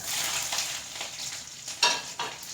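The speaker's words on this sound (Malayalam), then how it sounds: "കടുക് നന്നായി പൊട്ടി വന്നു അതിലേക്ക് നമുക്കുണ്ടല്ലോ ഈ വെളുത്തുള്ളി അങ്ങ് ഇട്ട് കൊടുക്കാം" Garlic dropped into hot coconut oil with popped mustard seeds for a pumpkin-leaf thoran, sizzling and frying steadily with a couple of sharper crackling bursts near the end, close by with no talk.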